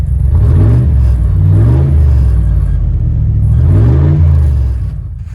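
A Toyota Land Cruiser engine warms up at steady idle, a loud continuous low rumble with gentle rising and falling revs, close by and with no talking.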